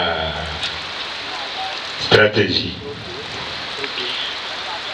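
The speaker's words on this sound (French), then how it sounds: "Vous voyez, cette pluie, c'est le signe de la bénédiction." Steady rain hisses down on an outdoor ceremony in Cocody, Abidjan, and someone speaks over the continuous patter, which is briefly broken by a sharp knock or clap.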